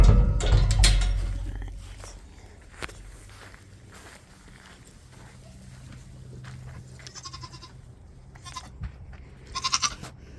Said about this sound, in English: here are our 3 other Nigerian dwarf goats